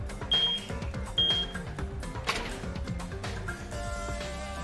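Repeated electronic beeping of a timer alarm in the video game Danganronpa 2: Goodbye Despair, several sharp high beeps over busy game sound and music at moderate level.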